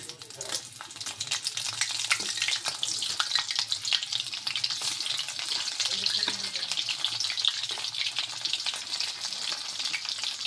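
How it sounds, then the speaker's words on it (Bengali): Crab pieces frying in oil in a pan, a loud and dense steady sizzle with crackling spatter that runs on without a break, with no talking. "বন্ধুরা দেখুন বাকি কাঁকড়াটা বেজে নেব"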